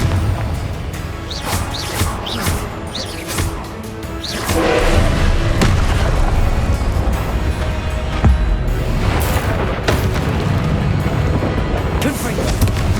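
Confringo fire-spell explosions in a Hogwarts Legacy battle, a string of thumps and booms against a constant rumbling bed of combat noise, with a voice talking throughout.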